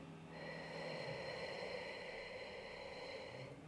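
A long, steady deep inhale through the nose during a cortisol-lowering breathing exercise, a smooth airy rush lasting several seconds, close and alone.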